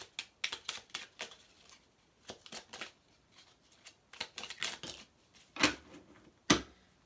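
Cards are drawn one by one from a deck in a quiet room, giving a run of crisp flicks, snaps and light slaps that arrive in uneven bursts, close and fairly faint, with no talking.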